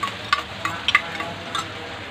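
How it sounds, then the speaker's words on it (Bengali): Eggs whisked in a bowl for an evening tiffin snack, with a few short, light clicking taps spaced unevenly and quiet, with no talking. "ডিম ফেটে নিয়েছি ভালো করে"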